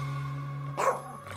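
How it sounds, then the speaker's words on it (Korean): A small Yorkshire terrier barking frantically indoors at night, a sharp burst of barking near the end after a steady low hum, fairly close. "정신이 나간 듯이 짖어대기 시작했다"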